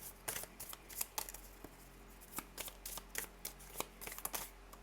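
A Paolo Barbieri unicorn oracle deck is shuffled by hand at close range, crisp irregular riffling bursts of card flutter, soft and without talk.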